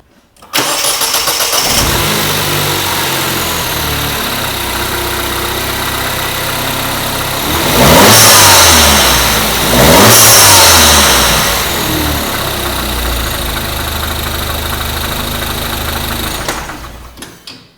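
A MINI Cooper engine with a muffler delete pipe cranks and catches, then idles steadily and loudly before revving up twice, settling back to idle and cutting off.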